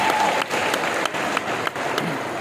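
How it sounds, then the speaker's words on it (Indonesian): University students in an audience applaud together, a steady, dense clapping close by that dips briefly and picks up again across the whole stretch, with no speech over it. "Aplaus dulu untuk kalian semua."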